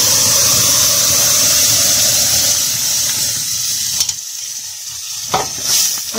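Yellow lentils tipped into browning garlic in a cooking pot, giving a steady loud sizzle and frying hiss with stirring scrapes and a few short bursts near the end, no talk.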